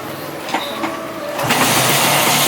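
A scooter engine cranks and catches, rising from a quiet start into a loud, steady running roar close by in a garage.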